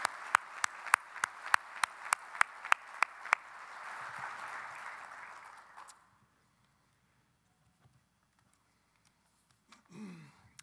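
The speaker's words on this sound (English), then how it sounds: "Let's give her another round of applause." At an industry luncheon, a few sharp, regular claps ring out close by over a swelling wash of audience applause, which dies away after about six seconds into near silence with a brief sound near the end.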